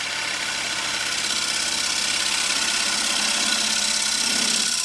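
Gouge cutting wood on a woodturning lathe with the bevel rubbing, a steady close whir and hiss of the spinning workpiece under a continuous scraping cut, even and unbroken throughout.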